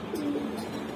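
Arabian kokka racer pigeons on a farm give a soft, close coo, a low warbling call rising over a hum of background chatter and bird noise.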